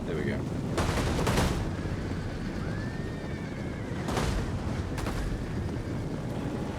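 Troops firing in a Rome 2 video game battle, crackling bursts of massed gunfire over a constant rumble of combat noise, with a horse whinny and a person talking faintly underneath.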